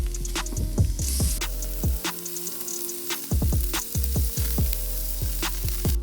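Ribeye steaks sizzle steadily on a grill, giving a constant close frying hiss with scattered pops and crackles. No voices can be heard.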